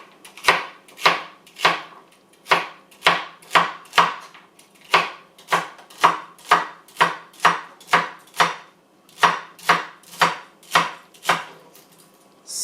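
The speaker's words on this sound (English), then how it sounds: "So we're going to chop these a little bit finer, but again, just a rough chop." A knife rough-chops vegetables for turkey mirepoix on a board, giving steady, evenly spaced close chops, about two per second, with no voices.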